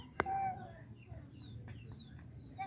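Chicken chicks give a sharp close peep, then thin, faint chirps scattered over a low background hum in a quiet farmyard setting.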